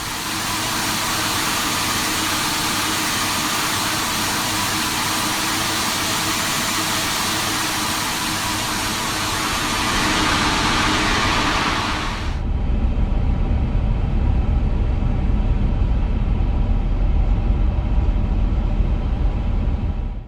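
Airbus A350-1000 jet engines spooling up under thrust in Microsoft Flight Simulator, a steady loud roar that shifts midway into a deeper, heavier rumble.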